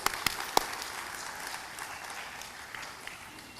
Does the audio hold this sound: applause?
yes